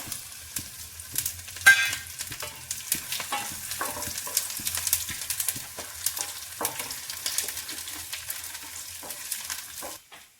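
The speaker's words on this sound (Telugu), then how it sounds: "పోపు దినుసులు మూకిలో వేసుకోండి." Spices for tempering sizzle and crackle in hot oil in a pan on a stove, with steady frying hiss and scattered sharp pops throughout, close and moderately loud, no talking.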